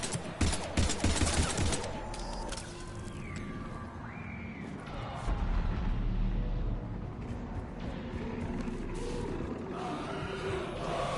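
Sustained gunfire in the video game Mass Effect 3 Legendary Edition, a dense fusillade of rapid automatic bursts and blasts that stays loud and continuous throughout, layered with crashes and rumbling combat noise.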